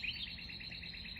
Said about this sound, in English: The birds are just crazy this morning.